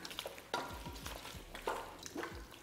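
A spoon stirs chilli powder and garam masala into chicken biryani masala with repeated scraping strokes and a soft sizzle underneath, close and fairly quiet.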